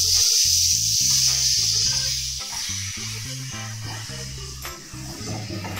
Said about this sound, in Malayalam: ഇനി ഇത് നന്നായിട്ട് മൂത്ത് വരുന്നവരെ ഇളക്കി കൊടുക്കണം